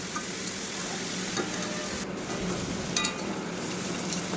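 Bitter gourd slices frying in a pan in a home kitchen, a steady close sizzle with occasional stirring scrapes and light metallic clinks, no voices.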